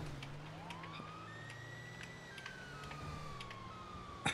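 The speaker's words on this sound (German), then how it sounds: "Mach mal die Sirene an." Police siren wailing from an armored police transporter in GTA Online, a sweeping rising and falling tone held steadily throughout, with a low engine hum underneath.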